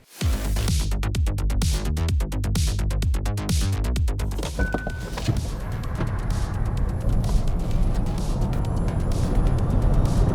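A Kia EV6 GT launches hard in drift mode with wheelspin, a loud rising roar of tire and drivetrain noise that builds and holds close by, with no talking.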